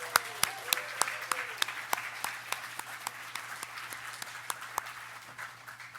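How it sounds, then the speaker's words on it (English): Business association annual meeting audience applauding a port authority sponsor: a steady stream of claps with a few sharp, prominent ones standing out, fairly close, gradually thinning as it goes, with faint talk underneath. "I want huge, enthusiastic applause for our presenting sponsor, the Vancouver Fraser Port Authority"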